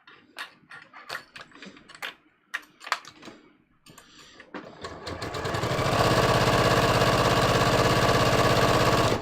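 A sewing machine stitches fabric, starting with a few scattered ticks and clicks, then running into a steady, close mechanical whirr as it feeds continuously.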